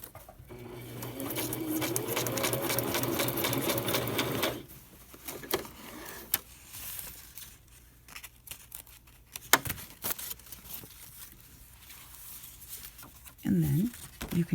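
A household sewing machine runs in a steady mechanical whir for about four seconds, then stops, leaving quieter handling clicks and a few soft taps.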